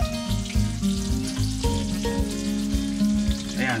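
Lumpia crackle and sizzle in hot cooking oil, a dense, close frying hiss dotted with sharp pops, while music plays underneath.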